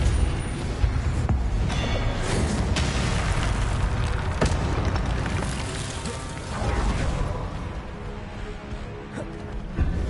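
A spell blast from Hogwarts Legacy gameplay, a broad booming burst with crashing and mechanical clatter sustained over a dense, loud wash of game sound, with a second swell later on.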